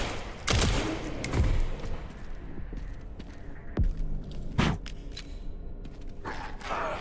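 Pistol shots ring out in Resident Evil, several sharp loud cracks spaced irregularly over a few seconds with faint mechanical clanks and footsteps between them.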